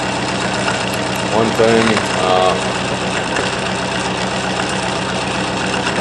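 A homemade pulse motor runs with a steady mechanical whir and hum, while someone talks briefly over it near the start.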